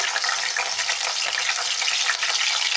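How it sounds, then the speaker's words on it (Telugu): Onions and green chillies frying in a pan for a fish curry, a loud, dense, steady crackling sizzle that runs continuously with no speech over it. "ఆనియన్స్ వేసి బాగా వేయించుకోవాలి."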